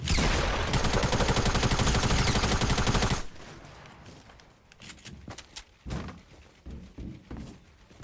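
Fortnite video game gunfire rattles in a dense, loud rapid burst of automatic shots for about three seconds, then gives way to scattered quieter in-game thuds and footsteps, with no talking.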